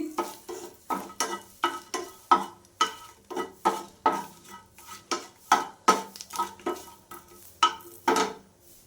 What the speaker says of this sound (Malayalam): ഇതിലോട്ട് ആദ്യം നമുക്ക് ഈ മുളകൊന്നിട്ടിട്ട് എണ്ണ ഒന്ന് കാണിക്കാം